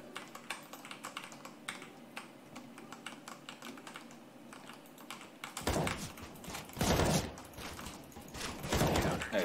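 A computer keyboard is hammered rapidly during a 1v1 aim-map match. Dense, fast clattering key clicks run throughout and grow louder and harsher in the second half, with gunfire-like bursts from the game.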